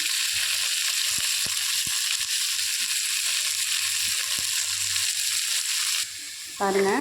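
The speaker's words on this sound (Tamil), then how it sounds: "வெங்காயம் தக்காளி ஒன்றா போட்டுட்டு தேவையான அளவு உப்பு போட்டு விட்டுடலாங்க" Onion and tomato with salt sauté in a pan for pressure-cooker upma, a steady, loud sizzle running throughout with a few stirring knocks, and a brief spoken word near the end.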